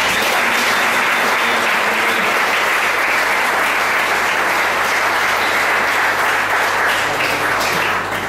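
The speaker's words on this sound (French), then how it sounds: "Acclamons notre Seigneur bien fort" A church congregation claps loudly and steadily at a French-language gathering led by a bishop, a dense unbroken wash of applause that holds at full strength for about eight seconds before easing slightly at the end.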